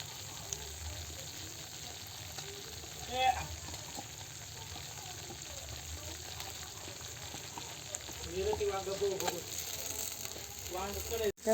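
Onion and tomato paste sizzling in a pan over a wood-fired chulha for stuffed eggplant, a soft continuous fry with occasional scrapes and clatter, plus brief low voices.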